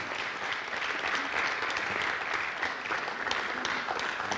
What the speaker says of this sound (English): let's give her a thunderous hand clap